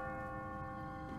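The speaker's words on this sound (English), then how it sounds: "What kind of church bell goes off at 20 past the hour?" An automatic church bell rings in The Walking Dead video game, a sustained metallic tone with a steady hum of overtones, faint and distant, with no speech.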